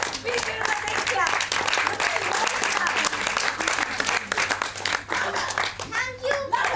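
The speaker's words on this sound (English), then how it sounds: "Please give him a big clap." Audience clapping for a child performer in a Panchatantra stage play, a dense, steady burst of applause with voices talking over it.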